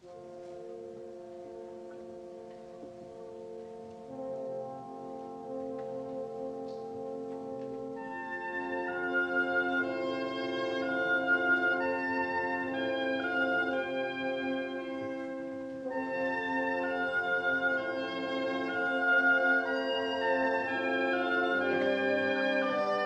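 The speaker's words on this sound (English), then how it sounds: "So as you can listen, in this case, they are just the woodwind family playing." Orchestral woodwind section with an oboe carrying the melody while the other woodwinds sustain a harmony underneath, smooth held chords that thicken and swell, moderately loud with no talk.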